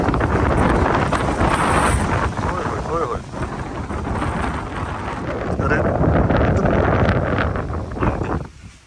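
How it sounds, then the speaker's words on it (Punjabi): Strong wind roars steadily against the microphone, a loud buffeting rush that swells and eases throughout with no clear pauses. "ਤੁਸੀਂ ਦੇਖੋ ਕਿੰਨੀ ਤੇਜ਼ ਹਵਾ ਚੱਲ ਰਹੀ ਆ"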